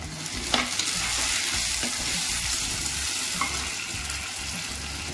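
Onions sautéing in a pan for a prawn curry, with a continuous close sizzle and repeated stirring scrapes and clicks throughout, and no voice.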